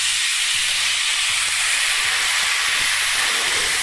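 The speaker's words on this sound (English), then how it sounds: "we're gonna put a bunch of red wine. And remember, this skillet just came out of a 350-degree oven." Red wine poured into a hot skillet straight from a 350-degree oven hisses and sizzles in a loud, continuous broad rush close by, with no talking.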